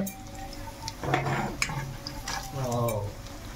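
Fish pieces sizzle softly in a pan while being flipped to fry both sides, with scraping and light clinks of a utensil against the pan over low, steady frying noise.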